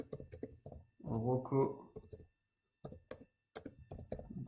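Clicky typing on a computer keyboard as a comment is entered during a live stream, quick irregular key taps running through the whole stretch, mostly under a person talking, with a brief pause in the keystrokes partway.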